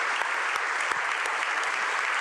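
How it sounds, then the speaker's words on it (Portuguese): A church congregation applauds during a worship service, a thick, even wash of many hands clapping close by with no pause. "Vamos aplaudir o Senhor, que Ele merece."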